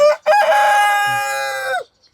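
A single loud rooster crow rings out nearby, one long drawn-out call that cuts off sharply.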